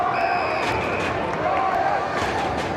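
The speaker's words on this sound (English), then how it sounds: "The crowd down here is cheering 13." At an AFL match between GWS and Adelaide, a stadium crowd roars and cheers in a steady wash of noise, with a broadcast commentator talking over it.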